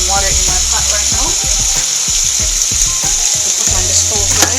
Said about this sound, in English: get some water in my pot right now.